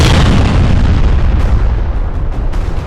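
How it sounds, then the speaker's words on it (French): A loud explosion effect booms through a fight scene in an animated school-of-fighters series, a dense, sustained low rumble that fills the whole clip and slowly decays with no voices over it. "Maintenant, explose, Kazuki"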